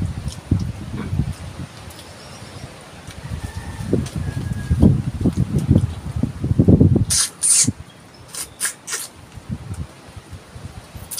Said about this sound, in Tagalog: maririnig nyo po yung lakas ng hangin